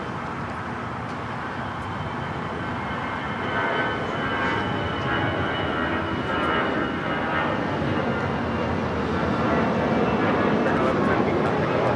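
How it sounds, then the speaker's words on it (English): An American Airlines A319 jet takes off at LAX with a steady, broad engine roar that swells slightly over the span, heard from a distance as people talk over it. "This is American Airlines 1113 taking off to San Antonio on the A319."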